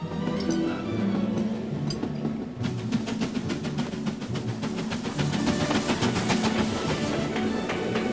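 The Royal Scotsman luxury train running on rails, a continuous rumbling roll with rattling and a rapid series of clicks from the wheels joining in partway through, steady and fairly close throughout.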